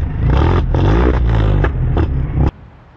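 A Can-Am Spyder F3 exhaust revs in several loud, close bursts with crackling pops between them, then cuts off abruptly into quiet.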